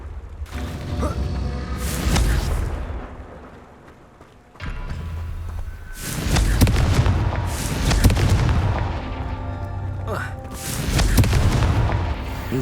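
Repeated Confringo explosion spells booming in the Hogwarts Legacy video game, several deep heavy blasts with rumbling tails in a steady rhythm, loud and close, no voices.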